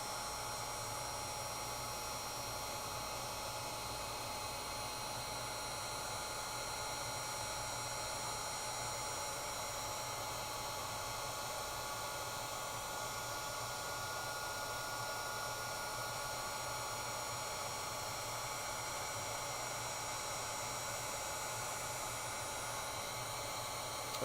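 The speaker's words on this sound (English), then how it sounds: "heat up your heat gun before you bring it to the project" Heat gun blowing in a steady, unbroken roar of hissing air that holds close and loud throughout, with no other sounds over it.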